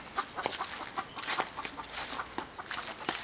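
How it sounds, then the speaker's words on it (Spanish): Hens on a farm cluck repeatedly in short, overlapping bursts, fairly close, a busy flock calling over each other with no talking. "estas son las gallinas"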